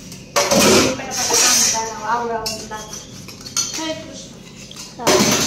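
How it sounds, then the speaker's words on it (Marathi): Dishes and utensils clink and clatter while being washed, with someone talking over the scrubbing and rinsing throughout. "अगोदर भांडी घासून घ्यावात"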